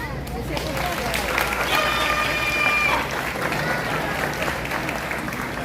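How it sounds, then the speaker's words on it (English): Steady crowd applause and cheering at an outdoor bird show at Disney's Animal Kingdom, with a bird's calls rising briefly over the clapping midway through and a light murmur of voices beneath. "You want to see what happens if you give Keto a big round of applause?"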